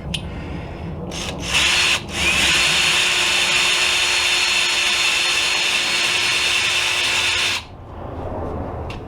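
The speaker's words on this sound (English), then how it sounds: "I'm just going in here and just kind of scuffing these up and trying to remove any kind of imperfections that are in here." A plastic brush spun by a power tool scuffs the inside of a connecting rod from a Honda K20/K24 engine during a wrist pin upgrade. It gives a close, loud, steady whine for several seconds after a couple of short starts.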